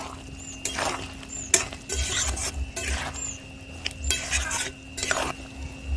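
A spoon scrapes and clatters repeatedly against a pan while chicken curry with fried potato and yam is stirred, giving bursts of metallic scraping over a faint low sizzle.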